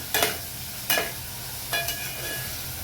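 Tomatoes with salt are sautéed in a pan for veg pulao, with a faint sizzle under a spatula that scrapes and stirs about four times. The scraping is close and the sizzle stays quiet.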